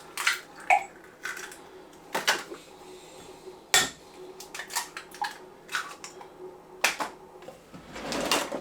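Three eggs beaten with a fork in a bowl give sharp, irregular clinks and taps of metal on the dish, close and fairly quiet, with brief pauses between bursts.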